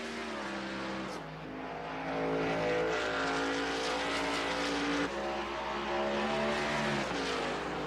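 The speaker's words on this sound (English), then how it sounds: "He's exiting pit lane off of turn 1 right now, still able to outrun our leader, Garrett Maines" Racing trucks in a JW Racing eSports Truck Series sim race at Watkins Glen, engines droning and revving continuously with shifting pitch as they accelerate and downshift through turns, no voices heard.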